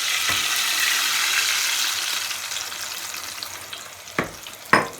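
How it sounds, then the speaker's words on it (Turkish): Potatoes fry in a pan with a steady, loud, close sizzle that holds throughout, broken near the end by two sharp clinks of a utensil against the pan. "Patateslerimiz kızarmaya başladı"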